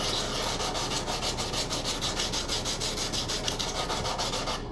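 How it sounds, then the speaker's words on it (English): A 3M 60-grit coarse sanding sponge rubs over styrofoam in quick, even back-and-forth strokes, loud and close, with a steady scratchy rhythm throughout. "Now this is just a 3M 60 coarse sanding sponge."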